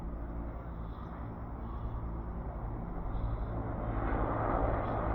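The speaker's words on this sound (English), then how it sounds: "Military helicopters been buzzing the city all morning." Military helicopters flying over Old Quebec City make a steady, broad mechanical roar that swells slightly as it goes on, heard from a distance over the street with no talking.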